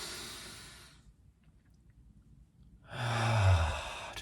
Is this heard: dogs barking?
no